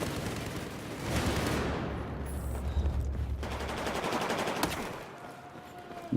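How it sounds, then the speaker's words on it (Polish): Sustained automatic gunfire in Battlefield 4, shots crackling from a rooftop in dense bursts with heavy low rumble, loud and continuous through most of the stretch, easing toward the end. "Cały czas tego dachu strzelają."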